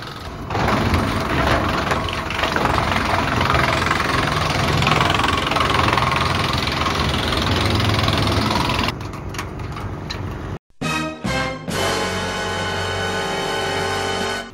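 An Eicher tractor engine running during homemade wood chipping, a loud continuous close rumble that cuts out abruptly near the end, then resumes as a steady drone.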